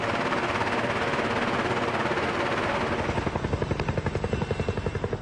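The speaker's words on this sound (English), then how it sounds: "This precarious maneuver is called the pinnacle landing and allows the rear ramp to open while the front of the aircraft hovers in the air." Chinook tandem-rotor helicopter performing a pinnacle landing, a loud heavy engine roar that shifts into a pronounced rhythmic rotor thumping, close and continuous.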